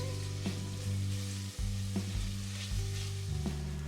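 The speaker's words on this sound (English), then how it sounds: "Once it's hot, I'm adding the diced onion and sauteing it for about 2 to 3 minutes until it turns translucent." Diced onion sautéing in hot olive oil for a Turkish lentil soup, giving a steady close sizzle with a few soft stirring scrapes and no talking.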